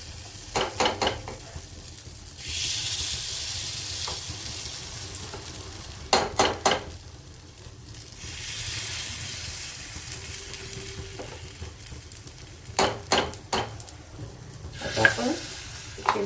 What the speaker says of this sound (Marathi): मधले पण तीन भरून घेऊ आणि आधी थोडंसं कमी गॅसवर आपण याला शेकून घेऊ